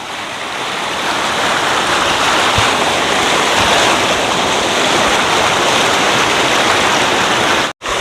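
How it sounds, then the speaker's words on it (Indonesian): Fast, turbulent river current rushing steadily over rocks at Cadas Ngampar, Cibadak, Sukamakmur, Bogor, a dense, loud and continuous watery roar with no voices, cutting off abruptly near the end. "Aliran kalinya cukup deras banget."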